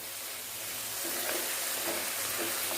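Mushroom pepper roast sizzles in an open pan while being stirred to dry it out, a steady close frying hiss with soft scraping stirs rising slightly partway through, no voices.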